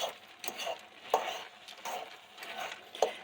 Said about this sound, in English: So I'll mix this all up